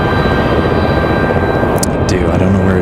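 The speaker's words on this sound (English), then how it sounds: "lots of helicopters flying around today" Low steady rotor drone of a news helicopter flying overhead near an airport, continuous and fairly loud, with a few faint clicks and a voice briefly heard over it.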